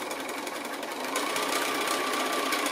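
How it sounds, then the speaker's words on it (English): A sewing machine stitches a quilt block for a flying stripes design, running along a diagonal line from point to point with a steady, continuous whir that grows slightly louder partway through, with no talking. "So I'm just sewing right on that diagonal line from point to point."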